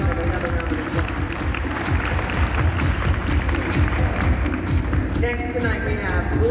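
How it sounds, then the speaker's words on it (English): Steady applause from a large crowd, dense and continuous throughout, with a brief burst of cheering near the end. "Please give Dr. Karen Rodman another round of applause"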